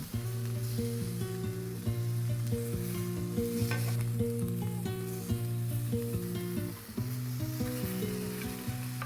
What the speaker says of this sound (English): on a very hot grill or grill pan like I'm using here for clean grill marks and a lightly charred exterior